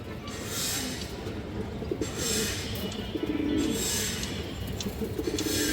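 Bezi pigeons, a matched pair of the same colour, coo softly and repeatedly in a steady low murmur against a busy background of other birds and chirps.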